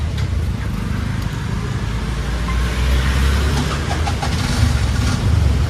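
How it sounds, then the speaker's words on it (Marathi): Engine of a new Bajaj RE BS6 auto rickshaw, recently serviced for an injector problem, runs nearby as a loud, steady low rumble that continues throughout with no voices. "आता मी गाडी चालू करून बघतोय."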